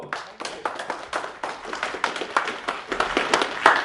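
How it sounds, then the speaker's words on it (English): Scattered clapping from a small group after a conference talk, uneven and close, rising slightly toward the end with a faint voice underneath. "Round of applause"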